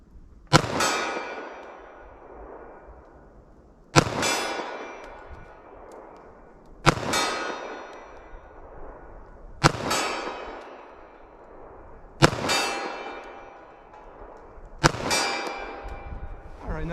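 Six loud gunshots from a Sig Sauer .45 ACP pistol fired at 40 yard targets, spaced roughly every two to three seconds, each a sharp crack followed by a long ringing outdoor echo.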